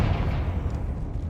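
A Confringo explosive spell cast in Hogwarts Legacy, heard as a dense, sustained low rumbling blast that stays steady throughout, with no speech over it.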